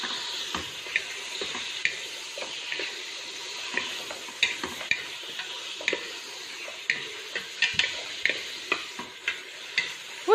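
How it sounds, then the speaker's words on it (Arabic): Meat and chicken frying in a pot, a quiet steady sizzle with frequent small clicks and stirring scrapes, close by and without talk. "نقليه شويه ومن بعد نزيد هذاك الدجاج تاعي، خليه يتقلى شويه هكذايا"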